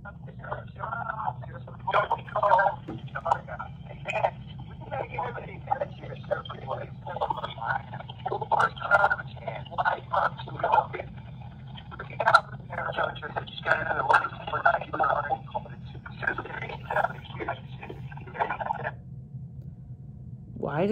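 A phone call placed to the Surfer Boy Pizza number from Stranger Things, a California line, plays as a tinny, band-limited recording with repeated bursts through about twenty seconds, steady low hum beneath.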